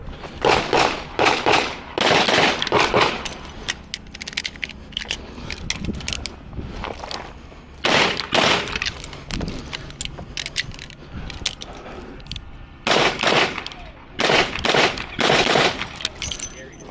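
Revolver shots ring out in quick bursts of several rounds at an IDPA shooting match, separated by pauses with clicking and handling noises and some talk in between.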